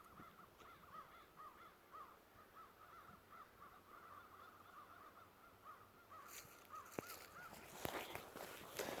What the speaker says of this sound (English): It's called a murder of crows.